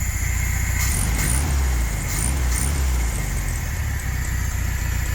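Classic VW Beetle air-cooled engine idling too fast, a close, steady high idle with a busy low putter and brief slight rises in speed.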